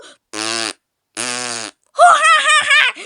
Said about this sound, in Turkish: Bakın osurdu.